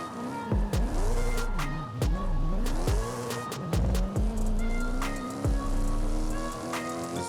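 Jaguar XKR-S GT drifting uphill in Forza Horizon 5, its engine revving hard and dropping in repeated surges, with tire squeal and sharp shifts cutting through continuous loud road noise.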